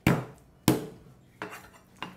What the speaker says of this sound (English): Using your knife, just smack it down, push it to the side first,